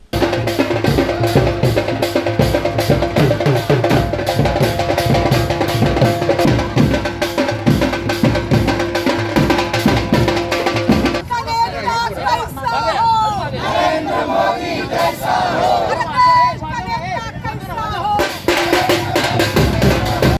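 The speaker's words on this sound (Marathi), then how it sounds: "यावेळी जोरदार घोषणाबाजी करण्यात आली" BJP supporters celebrating outside their party office in Solapur, raising loud, continuous slogan chants and crowd cheers that fill the space, with many voices overlapping throughout.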